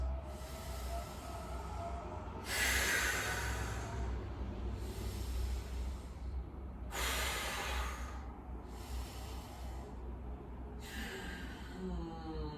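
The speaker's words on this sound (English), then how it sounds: "And 3 deep breaths." Three deep breaths during a yoga session, each a long rushing inhale and exhale rising over steady low room hum, spaced evenly and close to the mic with no talking.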